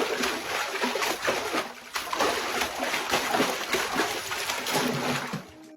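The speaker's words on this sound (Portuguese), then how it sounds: "estúdios de Foley de ponta geralmente possuem uma grande piscina de concreto para simular sons" Water splashes and sloshes in a large concrete Foley pool, simulating the sea: a dense, close run of irregular splashes and gurgles that continues steadily, then cuts off near the end.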